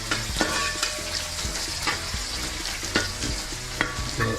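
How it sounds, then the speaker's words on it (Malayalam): Sliced onions sizzle in hot oil in a pan while being stirred with a spoon, a steady close frying hiss broken by repeated sharp scrapes and clacks against the pan. "സവാള ചേർത്ത് കൊടുക്കും, നന്നായിട്ട് ഇളക്കി കൊടുക്കാം."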